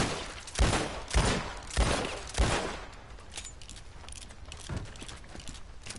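Schofield revolver shots fired at a locked house door in Red Dead Redemption 2: four loud, sharp bangs spaced evenly about half a second apart, followed by fainter, softer thuds and rustling.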